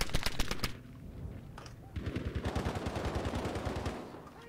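Repeated gunfire in the shooter game Battlefield V: quick bursts of rapid shots open, then a sustained automatic stream of evenly spaced shots runs loud and close until near the end.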